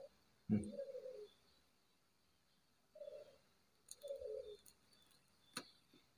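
A turtle dove (burung puter) gives several short, soft cooing calls spaced a couple of seconds apart, fairly faint and close, with a few light clicks in a quiet room.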